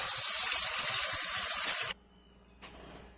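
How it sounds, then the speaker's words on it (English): Rice is rinsed under a running kitchen tap, a loud, close hiss of water that stops abruptly partway through, followed by a short clatter and quiet. "keep rinsing it until it's clear. Until the water's clear."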